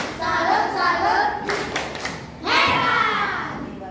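A group of children in a school classroom clap a rhythmic salute, a few sharp bursts of hand claps with thumps, close and loud, with voices chanting along between the claps.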